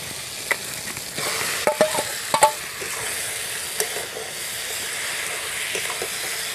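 Duck meat hits a hot pan of well-cooked spices and oil for a duck curry, giving a loud, close, continuous sizzle with occasional scraping stir strokes and a few sharper clinks, and no talk.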